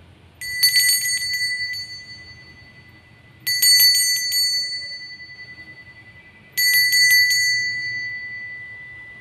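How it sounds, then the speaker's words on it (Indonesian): A bell rings three times at spaced intervals to open a tarot card reading, each stroke a bright, clear ding that rings on and slowly fades before the next, with no talking over it. "kita akan memulai dengan ditandai lonceng berbunyi"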